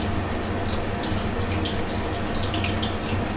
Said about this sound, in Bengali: দেখুন এবার আমি পটলগুলোকে এরকম ছাঁকা থেকে ভেজে নেব লাল করে।